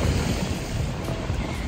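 Water rushes past rocks close by, a loud, steady, unbroken wash with a windy hiss and no voices.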